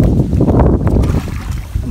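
Strong monsoon (habagat) wind buffets the microphone outdoors on a farm, a steady loud rumbling roar with gusting swells throughout.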